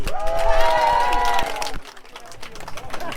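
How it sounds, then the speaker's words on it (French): Crowd at an outdoor car gathering applauding for an owner's Renault 4, scattered clapping under a voice at first, then the clapping continues on its own after the speaking stops. "on applaudit bien fort"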